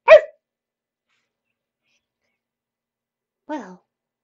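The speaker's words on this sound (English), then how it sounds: "Winona barked in agreement" A dog named Winona gives two short, separate barks about three seconds apart, close and clear against silence, the first sharper and the second softer and slightly drawn out.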